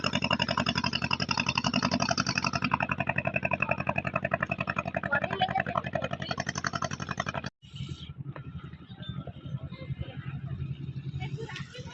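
A boat loaded with fish in the Sundarbans chugs past, its engine giving a steady, rhythmic low throbbing close by. Voices talk over it.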